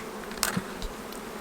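Honey bees hum steadily around an open hive in a low, continuous buzz, with a few faint, close clicks and passes over the drone.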